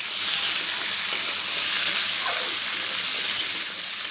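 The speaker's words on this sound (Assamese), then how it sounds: "এতিয়া মাংসখিনি অকণমান লৰাই ভাজি ল'লে হৈছে।" Meat sizzling and being stirred in a hot pan during home cooking, a steady bright hiss of frying that runs evenly throughout, close and moderately loud with no talk.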